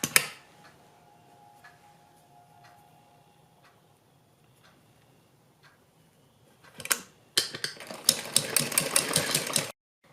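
A sewing machine stitching a sleeve with cord laid along it: faint clicks and ticks of handling at first, then a loud burst of fast, rhythmic machine stitching for about two seconds.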